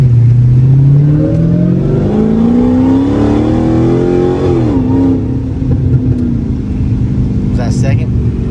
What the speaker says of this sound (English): One time I did a pull when it was freaking a quarter